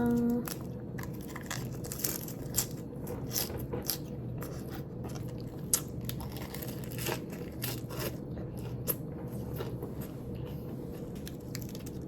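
Faint crunching bites and chewing of lettuce wraps filled with grilled beef rib meat sound close and quiet over a steady low hum, with no talking.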